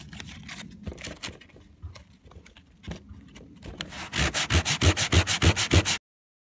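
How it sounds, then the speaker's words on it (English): A guitar saddle is rubbed back and forth on sandpaper, first in soft scattered scrapes, then in a close run of strong, regular rasping strokes about twice a second, heard alone. "or you can use sandpaper"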